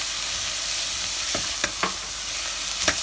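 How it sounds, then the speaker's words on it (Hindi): Finely chopped spinach stir-frying in a pan with curry leaves, a steady sizzling hiss broken by a few sharp scraping stirs of the spatula, close and fairly loud with no talking. "बारीक कटी हुई पालक हम इसमें डाल के अच्छा थोड़ी देर भुनो फ्राई करेंगे"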